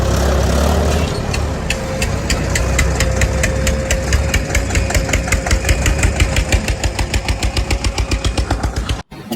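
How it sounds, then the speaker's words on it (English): A tractor engine runs loudly and steadily close by, its rapid rhythmic chugging continuing alone without talk before cutting off abruptly near the end. "Wow, it's a tractor, guys."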